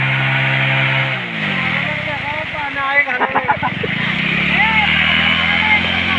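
A vehicle engine hums and drones steadily in fourth gear, shifting pitch as it drives through floodwater over a road, with a voice talking over it nearby.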